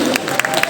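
Students clap at a university thanksgiving celebration, a short burst of crowd applause with crisp individual claps popping out of the steady patter.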